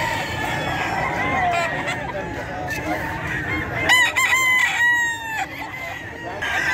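Several roosters crow in overlapping bursts at a chicken market in Bocaue selling gamefowl breeds like Kelso and Sweater, loud and close over steady crowd bustle and clucking.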